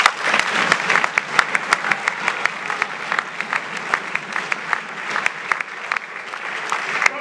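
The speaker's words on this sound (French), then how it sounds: "Il a demandé plutôt d'applaudir pour le président Félix." Audience applause for President Félix at a Congolese gathering, a steady patter of many hands with sharp individual claps standing out, moderately loud and continuous throughout without talk.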